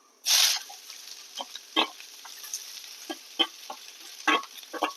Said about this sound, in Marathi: त्याचबरोबर आता हे कांदे ते पण आपण टाकूया